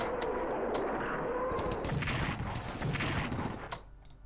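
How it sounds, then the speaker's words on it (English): Naval bombardment in the WWII strategy game Strategic Command: World at War, heard as a dense, loud barrage of booming shell blasts and crackling impacts that fades out near the end, with no talking. "let's start out with a naval bombardment."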